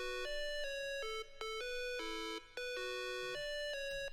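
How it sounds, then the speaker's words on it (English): An 8-bit synth preset from Serum plays a simple retro game-style melody of bright square-wave notes in a quick, steady rhythm, loud and alone with no voices. "I opened Serum and I used the Factual Guy's 10k Serum bank and got the preset 8-bit"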